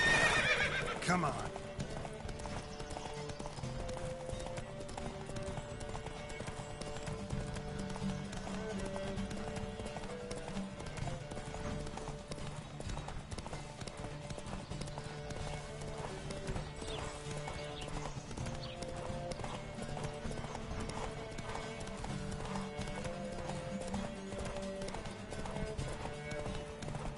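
Hooves clip-clop steadily as a horse gallops in the video game The Witcher 3, a constant rapid drumming with occasional whinnies and snorts, under steady background music.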